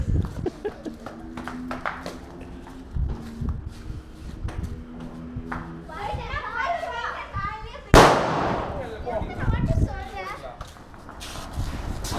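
Kuruvi vedi firecrackers burst during a Diwali celebration, with sharp cracks scattered throughout and one loud, close explosion partway through, amid busy children's voices and adult chatter.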